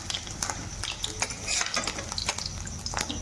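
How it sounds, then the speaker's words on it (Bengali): Chuna fish being deep-fried in oil, a steady close sizzle and crackle throughout with scattered sharper pops and faint utensil scrapes. "এইভাবে লাল করে আমি ভেজে নেবো মাছটাকে।"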